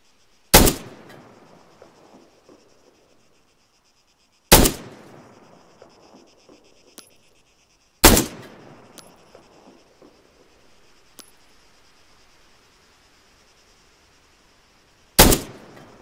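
Four loud, sharp gunshots ring out at irregular intervals in the video game Arma 3, fired at MRAP vehicles, each followed by a short decaying tail and faint ticks, with near-silence between shots.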